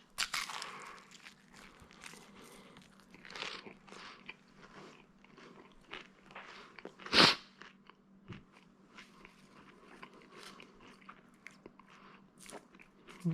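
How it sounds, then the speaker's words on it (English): Bites and chewing of a crunchy s'more pizza with burnt marshmallow and chocolate: close-up crunching and mastication throughout, one sharp loud crunch midway, faint and intermittent otherwise. "let's go ahead and get a bite and listen to that crunch"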